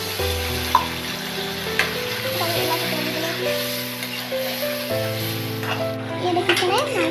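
Water poured into a pan of sizzling pork curry with fried potatoes, giving a steady crackling hiss throughout, partly under background music with tonal notes.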